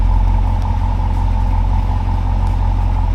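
Car fitted with a Valvetronic Designs exhaust idling with the valves open, a loud, steady low rumble and drone held close throughout, no revving and no talk.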